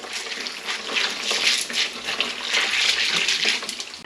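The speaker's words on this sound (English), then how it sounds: "put them under cold water to give them a good wash" Cold tap water runs steadily over dried peas being washed, a continuous hissing, splashing gush that stays close and fairly loud with small surges throughout and no talking.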